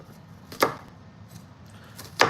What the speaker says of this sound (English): So we're just chopping up half an onion for our meatballs that we're making right now.